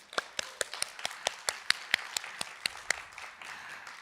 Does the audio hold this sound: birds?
no